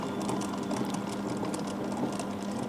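An electric mixer beats plum cake batter, a steady close whirring motor hum running evenly for a few seconds with no talking.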